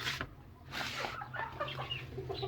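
A hen set on eleven eggs clucks in a few soft, close, uneven bursts against a low steady hum.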